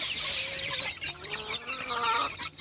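About 40-day-old chicks clucking outdoors, several birds making soft repeated clucks and chirps close by, steady throughout.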